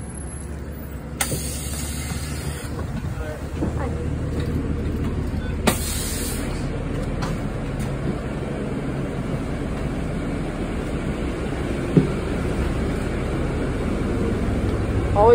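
Inside a moving city transit bus, a steady low engine and road rumble fills the cabin, with occasional small clicks and rattles.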